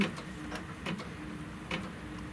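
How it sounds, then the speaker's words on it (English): A Kimberbell embroidery machine stitches a final tack-down with white thread, giving a soft, steady mechanical whir punctuated by a few light ticking thumps. "it's going to stitch the final tack down"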